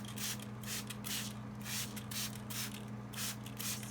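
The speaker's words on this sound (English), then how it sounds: "I'm going to try and rehydrate them a little bit by spraying water" Water spritzed from a spray bottle onto stored dahlia tubers, a run of short hissing bursts repeating steadily over a constant low hum.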